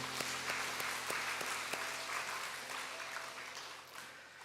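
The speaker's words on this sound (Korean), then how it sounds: "우리 찬양받기에 합당하신 어린 양께 영광의 박수 올려드리겠습니다." A church congregation at a Sunday worship service applauds in praise. The steady, even wash of many hands sounds faint and distant and holds at a constant level for several seconds.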